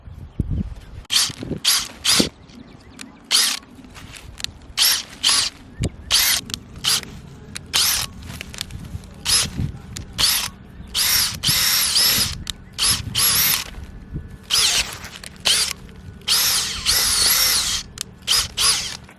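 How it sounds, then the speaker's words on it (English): A power drill fitted with a special bit for planting runs in many short bursts, repeated start-stop whirring in an uneven rhythm, close and fairly loud, during outdoor garden work. "We're going to be using our special drill bit."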